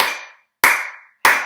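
Three sharp hand claps spaced evenly about 0.6 seconds apart, each loud and close with a quick decaying tail, marking a steady beat.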